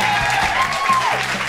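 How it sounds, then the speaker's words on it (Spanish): Brief, steady crowd applause of a welcoming kind, moderately loud, with a faint tonal sound sweeping over it and no speech. "Démosle la bienvenida con un fuerte aplauso a la letra"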